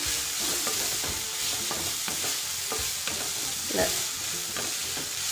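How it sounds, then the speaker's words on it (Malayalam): Bitter gourd thoran frying in a pan and being stirred, a steady close sizzle broken by repeated scraping strokes of the spoon, with no talking. "ഇടയ്ക്കൊന്ന് തുറന്ന് നമുക്കൊന്ന് ഇളക്കി കൊടുക്കണം"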